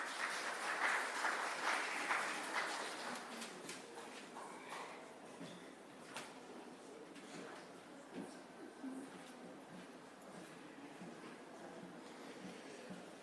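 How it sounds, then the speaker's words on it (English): Applause from attendees at a St. James Municipal Corporation city hall meeting in Montego Bay, a moderately loud patter of clapping that peaks early and then settles into a steadier, thinner round for the rest of the clip. "So, Mr. Clark, MP, give him a round of applause, please."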